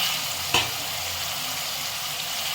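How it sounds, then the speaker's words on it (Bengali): Paneer pieces frying in well-heated oil in a kadai, a steady broadband sizzle with one brief louder pop near the start, no voices. "পনিরগুলো এইভাবে আস্তে আস্তে সাজিয়ে দিতে হবে, দিয়ে একটু একটু করে ভেজে নিতে হবে।"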